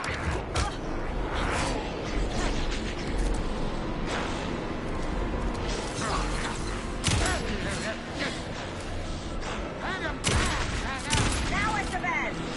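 Gunshots and clattering action noises in the horror game Alan Wake 2, dense and busy throughout, with sharper bangs standing out, heard under urgent shouted voices.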